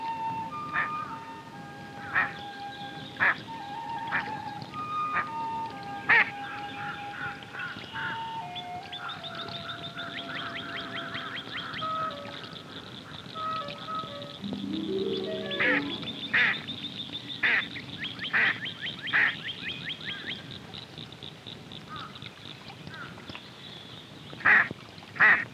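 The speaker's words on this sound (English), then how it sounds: "This big mallard duck looks to be in perfect health, but it's not." A big mallard duck with an injured wing quacks repeatedly in short bursts from the wild, over steady outdoor ambience, with music and a narrator's voice running through much of the clip.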